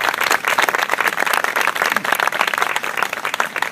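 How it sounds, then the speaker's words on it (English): An audience at a high school memorial ceremony claps in sustained, dense applause that holds evenly from start to finish, with no voices standing out. "I ask for a round of applause"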